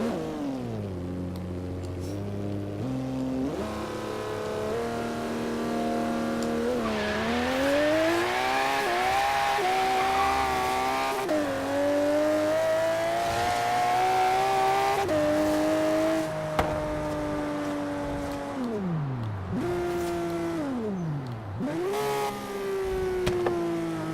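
Aston Martin One-77 V12 in Forza Horizon 3 on open road, repeatedly revving high and shifting up through the gears, with rising and falling engine pitch and occasional tire squeal, loud and close.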